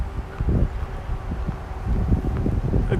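Gusty outdoor wind in Tokyo buffeting the microphone with low, uneven rumbling bursts that rise and fall over a few seconds, with no talk.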